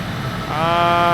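An SR-71 Blackbird's afterburner in Microsoft Flight Simulator swells into a loud, steady roar, with a rising whine building over the engine rumble, close and alone.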